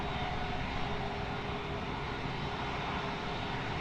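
At Lisbon Airport, an airplane taking off produces a steady, broad engine roar that holds even and loud throughout, with no voices.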